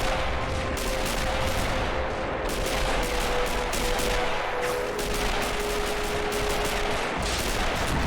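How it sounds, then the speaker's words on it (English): Toy cannons and guns fire continuously in the Army Men of War toy trench battle, a dense, steady din of shots with a faint sustained tone running through it and no talking. "Not sure if these cannons are shooting or not."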